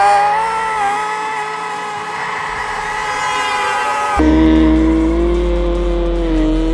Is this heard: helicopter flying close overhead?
no